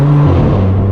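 A straight-piped BMW M4 exhaust, a loud, close, deep droning note whose pitch drops partway through a short burst, with no voices.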